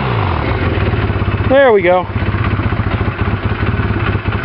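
A 1985 Honda Rebel 250 motorcycle idles unevenly with the choke off after a carburetor overhaul and cleaning, a close, loud, lumpy putter with a brief voice partway through.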